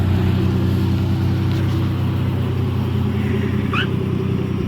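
A loud, steady engine roar from a nearby Toyota JZX100 Mark II with a front-facing external wastegate, a continuous heavy rumble with a brief high whistle near the end.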